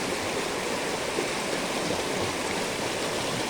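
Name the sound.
waterfall water falling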